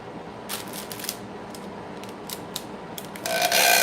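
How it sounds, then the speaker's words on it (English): Scissors or a blade trims excess material from a handmade basket. Quiet snips and crisp mechanical clicks come in a loose series, and a louder rasping cut builds near the end. "Let me just cut it off. Just slice it off."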